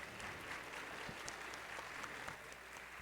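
Audience applause for a panel of four specialists at an education event, steady dense clapping from a crowd filling the whole moment, heard from a distance.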